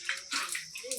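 Water is splashed onto a face by hand in a few quick, close wet slaps and trickles, soft and brief, with short pauses between splashes.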